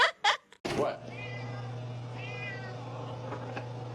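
A domestic cat meows at close range, with a few quick sharp cries at the start followed by two drawn-out, wavering meows over a steady low hum.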